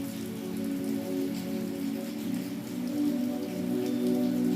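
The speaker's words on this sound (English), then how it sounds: "Maybe it's heavy raining here because of" Heavy rain pours steadily onto a surface, a dense, continuous patter with a low, humming undertone and no voices.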